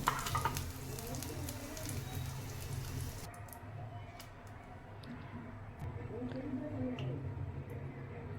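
Green chillies frying in hot oil for a yogurt chilli dish, a steady low sizzle and crackle running throughout, with occasional stirring and small pops, fairly close and moderately loud.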